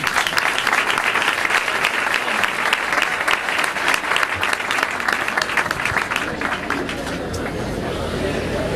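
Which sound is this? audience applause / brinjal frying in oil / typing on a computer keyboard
audience applause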